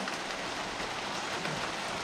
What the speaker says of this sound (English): it's just raining so hard.